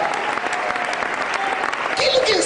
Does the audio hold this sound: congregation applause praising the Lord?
yes